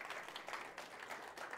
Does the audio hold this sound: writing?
no